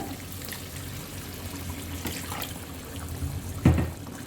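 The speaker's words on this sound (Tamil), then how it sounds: "ஒரு கப் தண்ணி ஊற்றிக்கிங்க," A cup of water poured into a cooking pot of vegetarian nasi lemak sambal, a steady low trickle and splash under faint kitchen noise, ending in a brief louder splash near the end.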